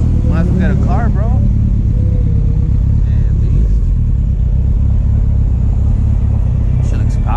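A big motorcycle engine rumbles and revs loudly up close on a city street, a steady heavy growl with brief voices talking over the start.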